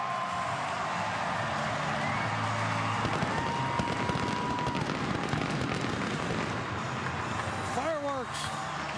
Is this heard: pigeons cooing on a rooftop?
no